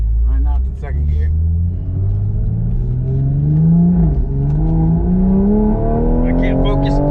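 A Toyota Supra engine revs hard in second gear with a loud, rising rumble that climbs steadily, dips briefly, then climbs again, heard close from inside the car.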